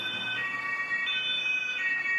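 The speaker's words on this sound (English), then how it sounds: "And the German siren." German police siren sounding a steady two-tone alternation, moderately loud and a little distant, repeating evenly throughout without any talk.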